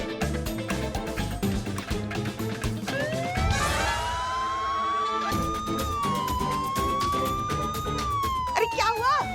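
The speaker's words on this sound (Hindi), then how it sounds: "मेरा सायरन क्यों बजा रही हो?" A police siren wails with rising and falling sweeps, loud and near, over a busy background of voices and other noise.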